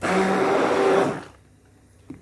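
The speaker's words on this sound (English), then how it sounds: "you can see the stick blender coming up" Stick blender whirring through lye and oil for cold process soap, a loud steady motorized buzz for about a second before shutting off, leaving near quiet with a small clunk at the end.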